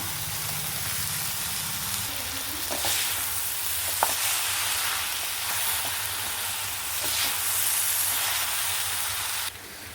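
Boiled boti hits a hot pan with coriander and chili powder and sizzles, a dense steamy hiss with stirring scrapes and a few sharp clicks, then cuts off abruptly near the end.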